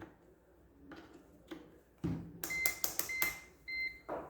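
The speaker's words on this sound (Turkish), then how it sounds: "Mesela şöyle buzzer'ını deneyelim." A series of short, sharp electronic beeps in quick succession follows a few soft clicks and taps, then a steadier tone sounds near the end.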